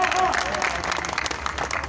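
Applause and crowd noise greet a political leader at a rally held in Hasan Abdal, Pakistan, with broadband clapping running steadily throughout while a voice carries over the top.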